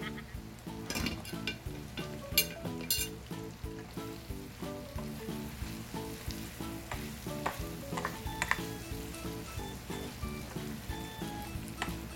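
Green chili hits a hot pan for Bicol Express, giving a quiet, steady sizzle. Repeated scraping strokes of stirring run through the frying, with a few sharper clatters of the utensil against the pan.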